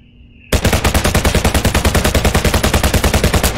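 A submachine gun fires in the VR zombie game Zomday: after a quiet half second, a loud, close burst of rapid, evenly spaced shots runs without pause for about three seconds, with no talking.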